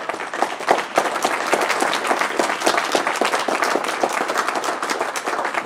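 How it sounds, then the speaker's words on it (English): A room full of people at a League of Women Voters school board candidate forum in Michigan City break into loud, continuous applause, individual claps crisp and dense across the whole stretch. "So I think we ought to give them all a great big round of applause."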